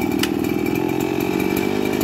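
A motorized earth auger drilling a hole in the ground, its small two-stroke engine running with a loud, steady buzzing drone close by.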